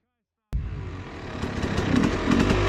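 Motorcycle engine revving up close, starting abruptly after a brief silence and holding a loud, rough, buzzing drone that builds slightly.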